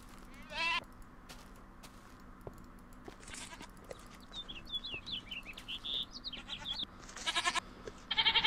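Goats in the video game Minecraft bleat in short, bright calls that repeat through the stretch, fairly faint and mixed with chirpy tones and game sounds.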